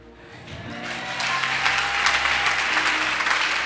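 Church congregation clapping during a sermon, applause swelling from soft to a loud, dense patter that holds steady to the end.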